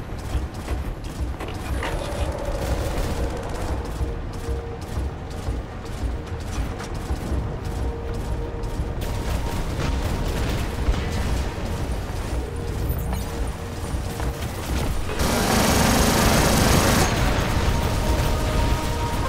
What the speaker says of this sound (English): I'm gonna shoot the rest of my ammo because I wanted to reload.